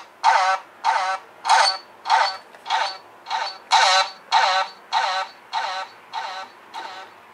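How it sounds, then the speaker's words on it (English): A homemade Sound Bender synth with the echo turned up plays a repeating buzzy electronic pulse, about a dozen evenly spaced bursts with rippling tails, loud and close with no talking. "Let's turn the echo right up."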